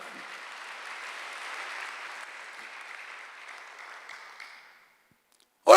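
A church congregation at a Sunday worship service applauds in a sustained, moderately loud burst that fades out after about five seconds, followed by a brief loud sound at the end.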